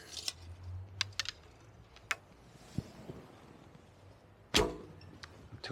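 A Buck Trail Metis twin bow drawn at 25 pounds sends off a 320-grain arrow. Faint clicks lead to a single sharp, loud snap of the release near the end, with no one talking.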